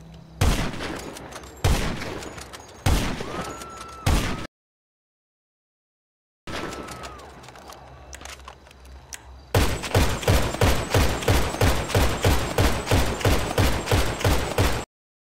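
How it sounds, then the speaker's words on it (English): Automatic sniper rifle in GTA Online firing, with loud sharp shots in spaced bursts, a pause, then a rapid steady string of evenly repeated shots. "you got yourself an automatic sniper, ideal for short-range encounters. No other sniper rifle will shoot faster than this one."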